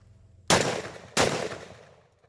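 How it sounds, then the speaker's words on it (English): Mossberg 930 shotgun firing number 4 buckshot at a silhouette target, two sharp, loud blasts about two-thirds of a second apart, each trailing off in a decaying echo, with no talk. "those 2 shots of the number 4 buckshot that I was talking about"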